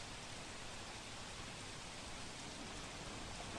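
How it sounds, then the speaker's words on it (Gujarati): Heavy rain pouring steadily in Valsad during a Navratri downpour, a dense, even wash of hiss with no breaks or voices throughout. "ગઈકાલ રાતથી વલસાડ જિલ્લામાં ભારે વરસાદ વરસી રહ્યો છે"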